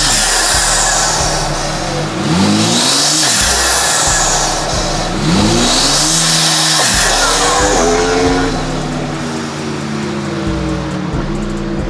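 A BMW G87 M2 fitted with titanium intakes revs repeatedly, its engine note climbing and falling in several loud sweeping pulls over a dense roaring rush, heard up close.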